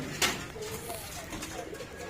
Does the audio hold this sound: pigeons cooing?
yes